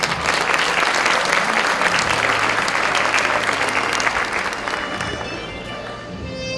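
A crowd applauds graduating students at a school graduation ceremony in 2018, sustained loud clapping that gradually thins toward the end.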